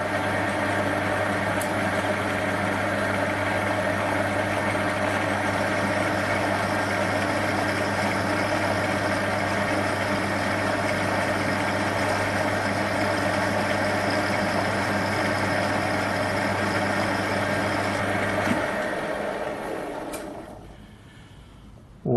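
A metal lathe hums steadily while a boring bar skims the inside of a bore, a constant mechanical drone with a low tonal hum that winds down and stops near the end.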